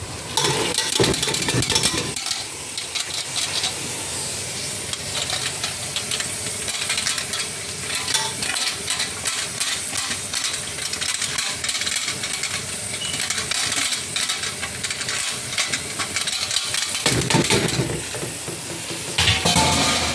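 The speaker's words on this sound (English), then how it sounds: "So what I'm going to do is now put the cabbage in" Cabbage added to a pot with cooked onions sizzles loudly and continuously for about twenty seconds, with frequent scraping stir strokes and clinks close by.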